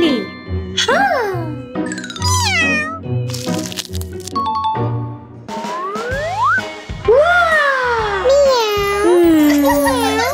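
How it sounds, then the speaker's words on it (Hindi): Several cats meow repeatedly, with rising and falling cries, some drawn out into wails, while someone speaks in between. "बिल्ली"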